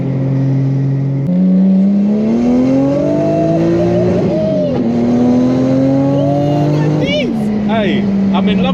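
Boosted 1JZ engine in a 1999 UK-spec Nissan Silvia S14 revs loudly and close, pitch climbing and dipping through several rising pulls with turbo whooshes, while a voice talks over it.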